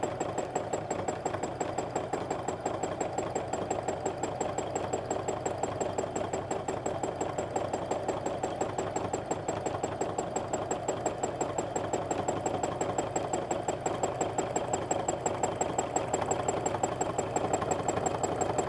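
Sewing machine running steadily through free-motion quilting of wavy lines, a continuous rapid needle chatter with an even motor hum at close range, sustained without pause and with no voices.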